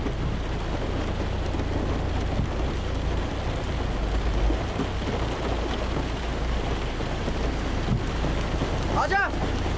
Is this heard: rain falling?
yes